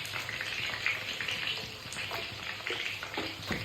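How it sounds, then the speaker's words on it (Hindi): Besan roasting in oil inside a pressure cooker gives a steady, close sizzling hiss, with a few soft scraping stirs and faint clinks rising above it. "बेसन को डालने के बाद लगातार इसको चलाते रहना है, भूनना है जब तक बेसन हल्का गोल्डन ना हो जाए"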